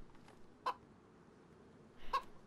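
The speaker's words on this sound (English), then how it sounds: "Chickens are friends." A chicken in the video game DayZ gives two short, quiet clucks about a second and a half apart over faint background ambience.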